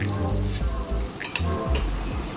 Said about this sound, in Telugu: దీన్ని ఒక 2-3 సార్లు 1 నిమిషం పాటు ఆయిల్లో ఇలా మగ్గనిద్దాం